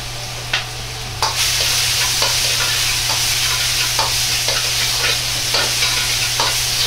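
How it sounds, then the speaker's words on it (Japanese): Microwaved onions stir-fried in two tablespoons of oil over high heat, with a steady loud sizzle and repeated scraping knocks of a ladle working through the pot, close up and without talk. "焦げないようにお玉をよく動かして混ぜながら炒めていきます。"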